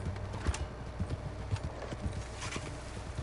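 Horse hooves clip-clop at a steady walking rhythm in the video game Red Dead Redemption 2, moderately close, with soft thuds repeating about twice a second over quiet ambience.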